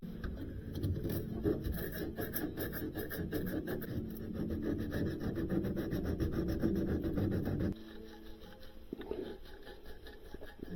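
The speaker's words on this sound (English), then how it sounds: "let's prepare the tubing for solder and clean out everything" Copper tubing being scrubbed clean before soldering during a Sub-Zero 430 wine cooler repair: a steady, close, abrasive rasping that runs continuously, then drops to a quieter, thinner scrape for the last few seconds.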